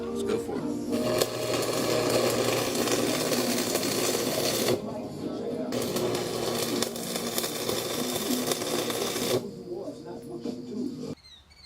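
Welding passes on a log peavey spike give a loud, steady crackling buzz in long arcs of several seconds, broken by short pauses between passes.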